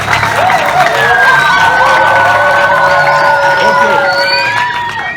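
A crowd of schoolchildren at an official school exam launch event in Songololo cheers and shouts loudly, with high excited voices and clapping running throughout before slowly easing off near the end.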